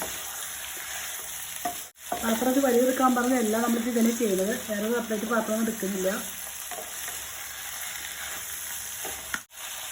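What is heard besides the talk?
chicken being stirred and fried in a pan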